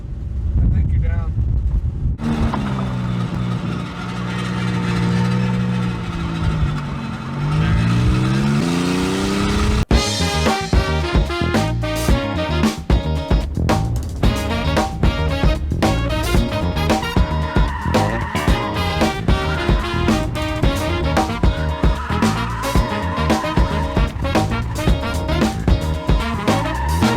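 A Lexus SC300 coupe with a 2JZ engine drifts. The engine revs loudly, rising and falling through rapid shifts with wind rush, heard from inside the car as voices talk over it.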